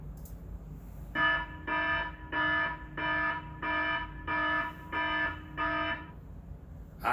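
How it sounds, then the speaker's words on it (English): An electronic alarm goes off, sounding eight evenly spaced loud tonal beeps, each about half a second long, with no one talking over it. "I just love that alarm."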